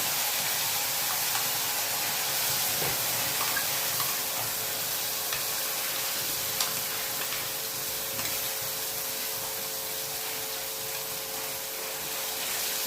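Ground raw mango paste sizzles in hot oil while being tempered with mustard seeds, cumin and curry leaves, a steady hissing fry that fades slightly toward the end.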